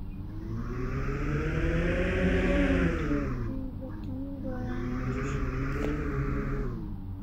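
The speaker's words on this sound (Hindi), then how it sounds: "पता ही नहीं मैं कितनी स्पीड में चला रहा हूँ गाड़ी।" A Bugatti Bolide in a driving video game speeds along a highway, its engine whining as the pitch rises, dips and climbs again, loud and steady throughout.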